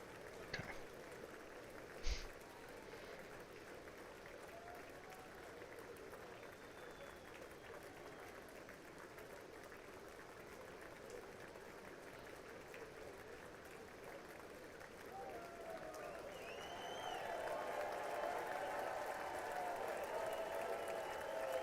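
An audience at the State of the Union breaks into sustained applause, faint and distant, swelling slightly louder toward the end.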